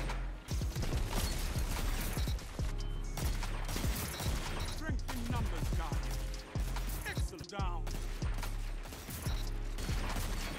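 Rapid gunfire in the video game Destiny 2, dense bursts of shots with game effects running continuously at high level, with a voice talking over parts of it.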